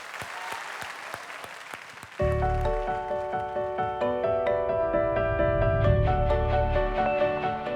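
A studio audience breaks into loud, sustained applause that swells over bright music at a startup pitch show, following a few faint claps at the start.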